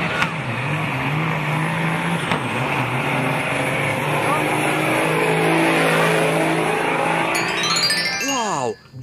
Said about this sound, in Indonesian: Yang ini ada truk tronton